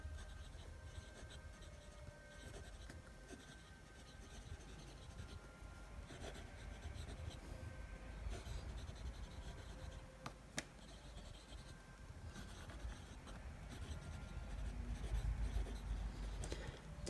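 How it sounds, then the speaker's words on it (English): A Kaco Balance fountain pen with a fine nib writing on paper gives a faint, continuous scratchy rustle of strokes at close range, with no speech. "Fine nib. Okay, so you can see this pen writes very smoothly. I'll just do a quick another writing sample."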